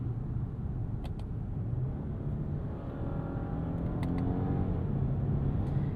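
A 2026 Genesis G90 e-supercharged sedan with an 8-speed gearbox accelerates in sport mode with paddle shifts, heard from inside as a steady engine hum and road noise that grows slightly.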